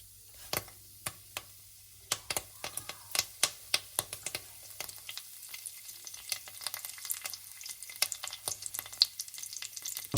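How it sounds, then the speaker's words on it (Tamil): Mustard seeds and curry leaves fry in hot oil for an Indian-style crab soup, giving a steady crackling sizzle with sharp popping bursts throughout, close and fairly loud, with no talking. "கடுகும் கருவேப்பிலையும் லைட்டாக பொறிஞ்சுட்டு வரேன்"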